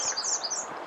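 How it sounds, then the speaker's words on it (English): Several birds chirp and sing close by along Spearfish Creek, bright overlapping calls in a steady chorus over soft outdoor background noise. "Lots of birds singing right along the Spearfish Creek."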